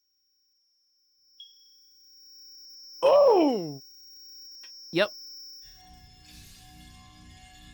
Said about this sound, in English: I want to not hear this ringing sound in my ears.